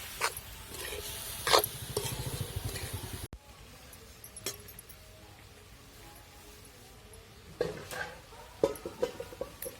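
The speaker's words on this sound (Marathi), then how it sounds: "तर मस्त आता कोबी पण परतायला टाकून दिलेला आहे" Shredded cabbage is stir-fried in a pan for a home-cooked cabbage bhaji, with intermittent scraping, clinking stirs and a soft sizzle, loud at first and then quieter with occasional spoon knocks against the pan.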